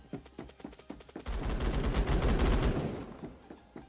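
Rapid gunfire crackles in the video game Phantom Forces: spaced shots, then a dense burst of sustained automatic fire before it thins out again.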